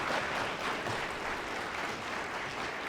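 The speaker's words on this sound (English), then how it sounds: "I want us to give a big round of applause for the Mooters themselves" An audience at the closing ceremony of the 2024 Kawaskimhon National Aboriginal Moot applauds the mooters, giving a steady, dense wash of clapping that holds at an even level for the whole stretch with no voices on top.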